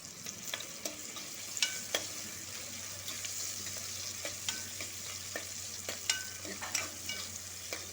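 Onions and green chillies frying in a pan for street-style veg noodles: a steady, quiet sizzle with a series of sharp clicks and scrapes as a utensil stirs and taps the pan.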